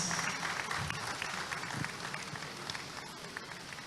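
Steady applause from an audience at an opening ceremony of a business session, dense clapping filling the room and holding at an even level throughout.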